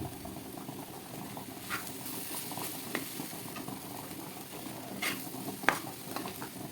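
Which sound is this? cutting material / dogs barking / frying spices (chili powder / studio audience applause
frying spices (chili powder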